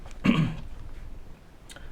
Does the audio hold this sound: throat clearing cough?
yes